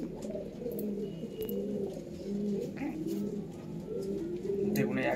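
Red-headed and black-headed breeding pigeons kept at a house coo steadily in low, throaty rolls, close and continuous, with scattered brief clicks and chirps and some faint talking mixed in.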